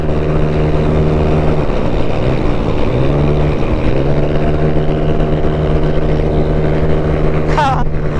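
A motorcycle engine drones steadily close by while riding at night toward Tagaytay, its pitch dipping and rising as it changes speed.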